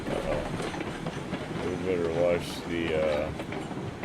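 A train in RailRoads Online rolls downhill on rails with a steady rumbling clatter and brief metallic squeals from the wheels, while someone talks over it.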